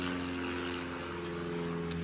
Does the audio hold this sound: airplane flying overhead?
yes